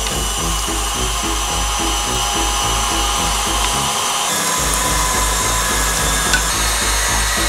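An electric meat grinder mincing cubed lamb shoulder for homemade merguez runs with a loud, steady motor drone. A brief dip near the middle interrupts it, then the grinding resumes at full strength with no talk over it.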